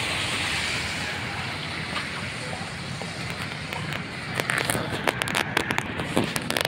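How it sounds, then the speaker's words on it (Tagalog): Heavy rain pours down in a steady loud hiss outdoors in a flooding street, with sharper patters and splashes building near the end. "Bubuhos na ho ang ulan na malakas."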